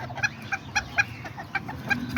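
Serama and Azteca chickens cluck in quick, repeated clucks at an uneven rhythm, close by and fairly faint, with no talking.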